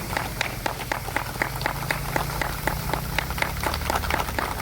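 Crowd applause at the inauguration of a village entrance gateway, a dense, steady clapping that stays loud and even from start to finish, with no voices standing out.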